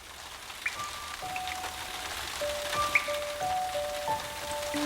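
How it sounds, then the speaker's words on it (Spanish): Rain patters steadily on a surface as a soft, even hiss dotted with faint drips, quiet and continuous throughout. "¿Y si pudieras oír el verdadero sonido de la lluvia?"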